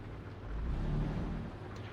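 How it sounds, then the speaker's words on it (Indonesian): Steady rain on a truck in Euro Truck Simulator 2, heard as a soft, even wash of noise over a low engine rumble that swells slightly, with no voices. "Hujan ternyata ya."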